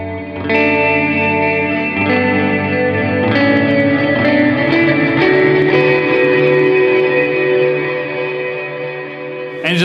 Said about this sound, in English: you'll hear it's got a ton of reverb and delay